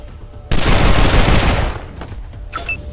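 Gunfire in the video game Wasteland 2: Director's Cut, a sudden loud burst of rapid shots that hits hard and then trails off into a fading rumble, followed by a few faint game interface blips.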